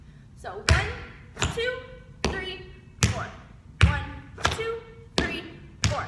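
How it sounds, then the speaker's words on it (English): Beginner tap dance riffs struck on the floor: sharp, close taps in evenly spaced clusters of two to four beats, repeating about every 0.8 seconds, while a voice counts along. "you want to separate the ball of your foot striking the floor and then the heel pushing"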